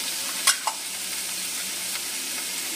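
Chopped tomato is stirred in a hot pan with a steady background sizzle. A couple of sharp utensil knocks come near the start, then softer scraping as the frying continues.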